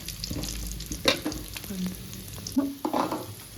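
Ingredients for ghee rice cook in a pan with a close, steady sizzle broken by scraping stirs and small clattering knocks.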